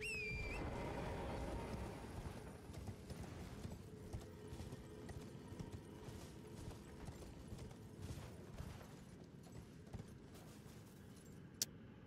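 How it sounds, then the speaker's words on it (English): Horse hooves clip-clop steadily through a fantasy game landscape in Elden Ring, a continuous mid-level stream of galloping footfalls blended with ambient game sound and a brief sharp chime near the end. "I got my horsey."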